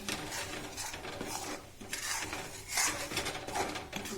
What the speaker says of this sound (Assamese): এতিয়া এয়া মই পিঠাগুড়িখিনি দিছোঁ, এতিয়া লৰাই আছোঁ মই।